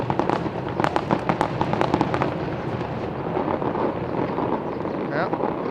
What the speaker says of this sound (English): The fireworks have started.